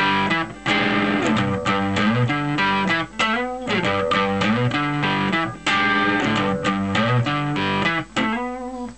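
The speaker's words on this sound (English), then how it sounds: "I'm putting a slight bit of distortion on here." Electric guitar played with a light overdrive, a steady rhythmic strummed pattern of chords and single notes, close and fairly loud throughout.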